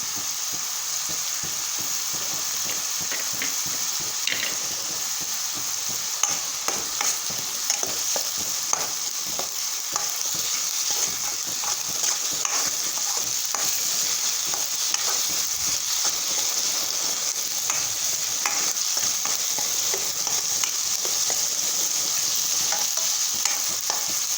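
Grated coconut fries with paneer masala in a pan, giving a constant loud sizzle with scattered scraping and stirring clicks throughout and no speech.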